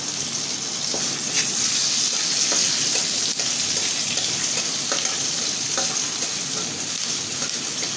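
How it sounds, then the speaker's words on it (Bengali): Onion and bay leaf fry in oil in a pan with a loud, steady sizzle, and faint stirring scrapes come through now and then. "এটা আমি ভাজনা করে নেব"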